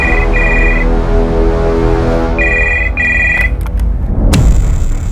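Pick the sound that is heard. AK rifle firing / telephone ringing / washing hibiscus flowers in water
telephone ringing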